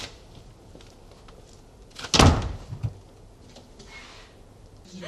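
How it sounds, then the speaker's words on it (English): A front door swings shut in a house, one solid, fairly close thud with a short rattle after it, then quiet room tone. "I'd be very grateful if you closed the front door after you."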